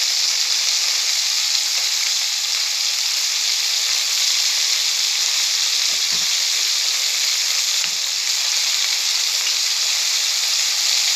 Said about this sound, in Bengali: ঢ্যাঁড়স বেশি ভাজবো না